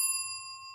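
A notification bell chime rings once, a single bright ding with a long ringing sustain that fades slowly, heard alone without any talking.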